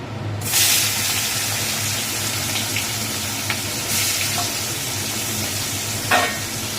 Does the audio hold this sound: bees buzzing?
no